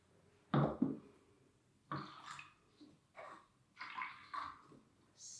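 Small splashes of water poured into cups holding soap, several short pours in a row with gaps between, fairly close and clear.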